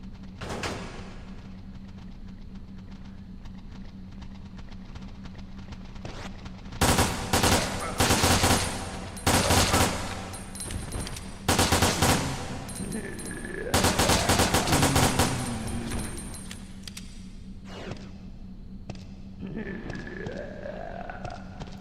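Charge particle rifle fire in Resident Evil: Dead Aim, coming as loud bursts of rapid harsh energy shots with short pauses between them, over a low background hum and some electronic game tones.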